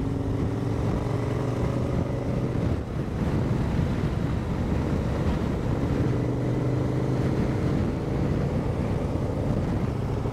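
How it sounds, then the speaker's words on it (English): Wind roars steadily across a microphone during a two-up adventure motorcycle ride in Central Otago, New Zealand, with a low engine drone running beneath the rush. "the wind's blowing that way"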